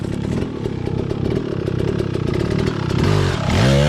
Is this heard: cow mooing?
no